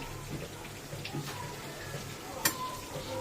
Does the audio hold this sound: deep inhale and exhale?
no